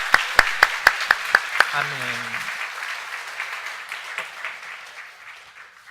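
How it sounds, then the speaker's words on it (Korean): A church congregation at a Sunday worship service at Gaepo Church claps in a quick, even rhythm of about seven sharp claps, then the clapping gives way to a voice and murmuring in a reverberant hall. "하나님께 다시 한번 영광의 박수를 올려드리시죠"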